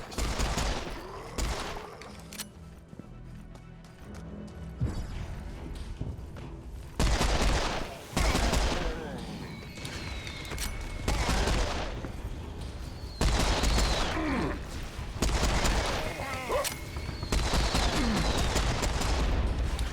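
Rapid bursts of automatic gunfire and heavy weapon blasts from the video game Serious Sam 4, loud and close, coming in repeated volleys separated by brief lulls.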